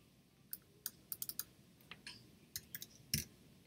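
Quiet, close clicking of computer keys as text goes into a text box, with irregular single and clustered taps and a louder final press.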